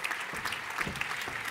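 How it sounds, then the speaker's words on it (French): A crowd of residents at a neighbourhood community event gives a short burst of moderately loud, steady applause lasting a second or two. "On peut les applaudir bien fort."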